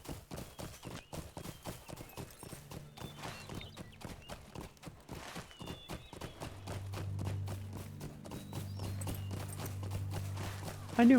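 Horse hooves clip-clopping in the online game Lord of the Rings Online, a rapid regular beat of hoofbeats at close range that keeps going the whole time, with a low game drone swelling in partway through.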